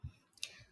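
Two or three soft, close clicks of a computer mouse sound in quick succession while simulation software is being operated in a quiet room.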